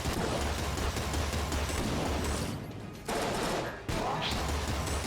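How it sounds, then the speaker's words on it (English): Battery gun weapon fire in the video game Enter The Gungeon, a dense, continuous barrage of rapid shots that drops off briefly twice before resuming, loud and without speech. "But I'm gonna expend battery gun ammo first, I think."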